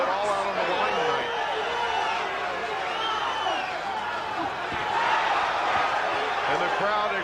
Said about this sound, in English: And the crowd exhorting Mosley.